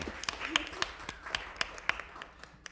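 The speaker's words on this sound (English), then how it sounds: "That's for clapping." Sparse audience clapping at a live radio broadcast in a barn venue, scattered individual claps sounding fairly close, with a voice talking in the room.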